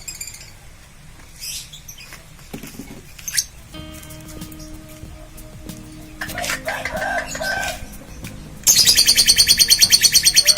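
A single lovebird, kept as a fighter bird, bursts into rapid chirping song once its cage cover comes off, a loud, dense, repeating trill close by after quieter rustling and handling.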